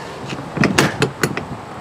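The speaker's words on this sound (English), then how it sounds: "Oh, he's locking from the inside." Entry door of a 2022 Salem Hemisphere 270FKS RV being locked from the inside, a short series of sharp metallic clicks and clunks, fairly close, with no talking.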